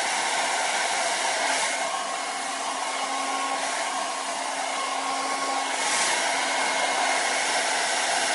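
Hair dryer blowing steadily at the roots of hair during a blow-dry styling, a close, continuous rushing whoosh with a faint motor hum and slight swells as it moves.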